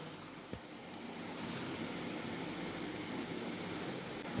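A quiz countdown timer beeps in spaced pairs of short, clear electronic tones, four pairs about a second apart over a faint hiss.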